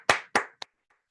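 A few people clap for a presenting team at an online launch event: two bright claps, then a smaller third and faint trailing taps, close and brief.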